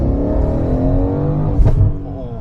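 A Mercedes C63 S with a Brabus package and aftermarket IPE exhaust drones loudly nearby, then briefly revs up with a sharp burst before settling back to a steady rumble.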